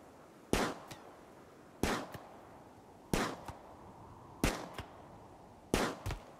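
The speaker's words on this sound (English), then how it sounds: "we have no other choice but to keep firing" Gunfire in the Rimworld video game: five sharp, loud shots at a steady pace about a second and a half apart, each followed by a brief rattling tail, with no voices.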